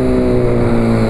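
A loud, steady engine roar from a Honda CB 1000R motorcycle with a 4-into-1 exhaust, droning harshly and continuously at close range with no speech.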